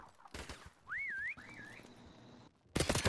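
A player character's whistle in Call of Duty Modern Warfare Remastered Prop Hunt, a short two-part wavering tune standing alone between bursts of louder game noise.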